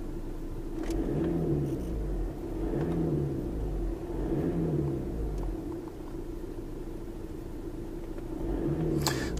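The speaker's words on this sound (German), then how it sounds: "Und jetzt habe ich ihn wieder im Leerlauf." A car engine idles steadily while an exhaust temperature sensor behind the diesel particulate filter is checked, giving a constant low rumble with a slow, regular pulsing swell, close and alone with no talk.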